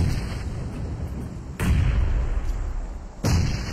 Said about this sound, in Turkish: Bomba geliyor. Bomba geldi.